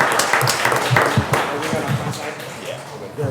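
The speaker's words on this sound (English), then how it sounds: "if we could give these teams and the cross-country team a big round of applause." At a county school board meeting, the room applauds the school sports teams and cross-country team. The clapping is moderate and a little uneven, mixed with murmuring voices, and fades over a few seconds.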